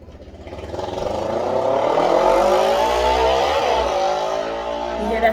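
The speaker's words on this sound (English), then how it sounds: "Do you hear that speeder out there?" A motorcycle speeds past outside, its engine note rising to a loud, sustained roar and then dropping in pitch as it moves away, ending with a short burst.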